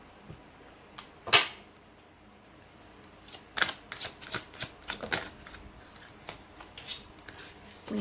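Oracle cards being shuffled and drawn for an angel guidance reading: a quick riffling burst, then a run of crisp card snaps and flicks in close succession, near and fairly clear with no talk.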